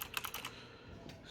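Keys pressed on a Fantech Optimax MK885 mechanical keyboard, a quick run of five or six crisp, close clicks in the first half second, then a pause and one more soft keystroke near the end.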